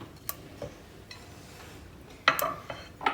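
Chopped white onion tipped into a frying pan, heard as scattered clinks and scrapes of utensil against pan, a few sharp clatters close up, with a brief louder burst near the end.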